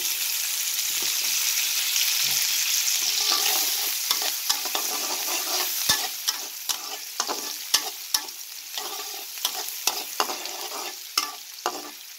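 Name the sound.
onions frying and being stirred in oil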